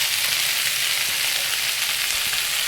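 Chopped tender red amaranth greens hit a hot oiled pan, giving a loud, steady, close-up sizzle that holds evenly throughout with no voices.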